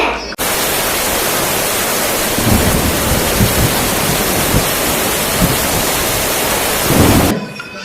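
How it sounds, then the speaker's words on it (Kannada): Heavy rain pours down in a dense, continuous hiss, while thunder rumbles in low rolling swells underneath and grows loudest near the end before the sound cuts off abruptly. "ಮಳೆ ಜೋರಾಗಿ ಬರ್ತಾ ಇದೆ"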